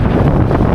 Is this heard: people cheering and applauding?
no